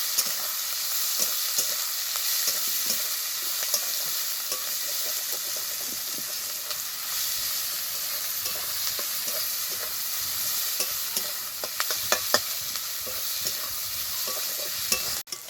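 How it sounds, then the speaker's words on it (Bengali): Chopped onion and ginger frying in oil in a pan, a steady loud sizzle and hiss filling the whole stretch, with occasional scraping taps of a spatula stirring toward the end. "এবার সব কিছুকে খুব ভালোভাবে আগে ভেজে নেব, তারপরে বাকি মশলা দেবো।"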